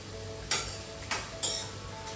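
Chilies drop into a hot frying pan while chicken cooks, giving three sharp sizzling bursts that fade back into a low steady fry, close and clear with no talking.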